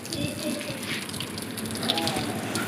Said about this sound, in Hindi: जो कल प्लस्तर हुआ था वहाँ पे थोड़ा पानी वानी डाल के उसको थोड़ा पटा लेता हूँ